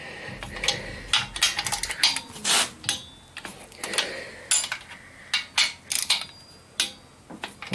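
On the cylinder heads of a 1956 chop-top oval-window VW Beetle, a torque wrench tightens the head bolts, giving sharp close metallic clicks and clanks in irregular bursts, with handling noise in between.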